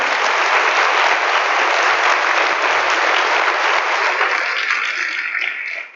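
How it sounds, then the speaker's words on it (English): Loud, sustained applause from an audience honoring a school board at a state-of-the-system address, dense clapping that holds steady then tapers off at the end. "Please join me in giving our school board a round of applause."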